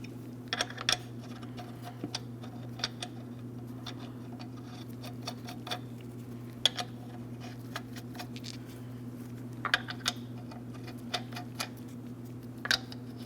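Lug nuts on a 2005-2010 Chrysler 300 front wheel are torqued to 110 foot-pounds, giving scattered sharp, quiet clicks in small groups over a steady low hum.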